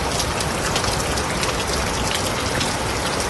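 Heavy rain pours steadily over low-lying ground in Kishtwar, a dense, unbroken rushing hiss with no voices.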